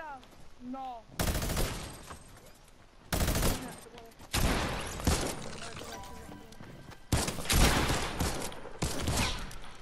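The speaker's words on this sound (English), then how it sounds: "I'm getting shot" Bursts of rapid gunfire in Fortnite come in several loud clusters of crackling shots, separated by brief quieter gaps, with a player talking between the volleys.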